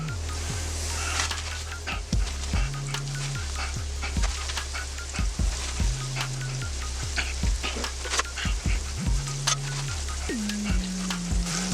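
Fish for tacos shallow pan-fries in oil on a stove, giving a constant close sizzle and crackle with repeated short scraping stirs and low tonal sweeps over it, no talking.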